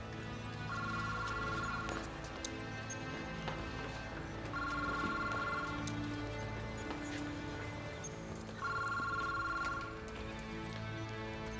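A telephone rings in an office with an incoming call from the prosecutor's office, three separate bursts of electronic ringing spaced a few seconds apart over a steady low background hum, clear and moderately near.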